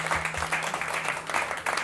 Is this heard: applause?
yes